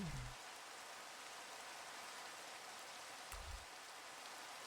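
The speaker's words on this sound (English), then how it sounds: "you're hearing the rain in Minecraft right now" Rain in the Minecraft video game, a steady hiss of falling drops that stays even and fairly faint throughout, with a couple of brief low bumps.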